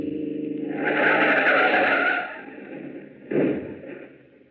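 In a radio drama, a car being run off the road skids with a long, loud tire squeal that fades, then a second shorter screech, heard alone and close.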